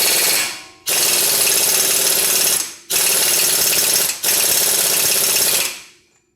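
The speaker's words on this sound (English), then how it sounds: "As for the drive axle bolt, we're going to torque this down with impact." An impact wrench tightens the drive axle bolt on a 1994–97 Honda Accord, running in three loud, sustained rattling bursts, each about one to two seconds long, with brief pauses between them. The bursts are heard close and alone.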